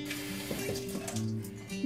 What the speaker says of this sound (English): now we need to put a little bit of water on top so that the cloth is wet.